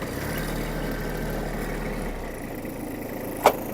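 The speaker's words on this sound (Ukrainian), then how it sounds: "зняли трактор з тормозу і давайте почнемо рухати перша передача, фрезу підняли і поїхали" A Hitachi CX-150 Japanese mini tractor engine runs steadily with a low rumble as it is released from the brake and pulls off in first gear, ending with a brief sharp knock.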